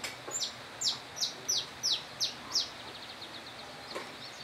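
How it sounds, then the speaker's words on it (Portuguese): Small birds sing in a rural countryside setting, a series of about six quick, high descending chirps in a regular rhythm, fairly close and clear over a quiet background. "E tem os passarinhos aqui cantando que dá gosto"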